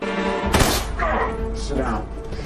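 A gunshot in the action film Death Wish (2018): one sharp, loud broadband crack about halfway in, set among dense movie sound and voices.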